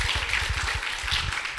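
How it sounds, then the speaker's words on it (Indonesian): Audience at a university talk event clapping for an invited guest, a steady patter of many hands filling the short stretch at moderate loudness with no voices. "Semuanya beri aplaus kepada Mas Leo Avero"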